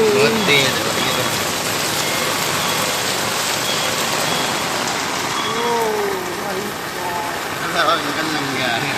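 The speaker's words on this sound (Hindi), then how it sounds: "बारिश बड़ी तेज़ और बड़ी अच्छी हुई इस बार" Steady rain pours down loudly in a constant hiss, with a faint engine hum and brief voices in the background.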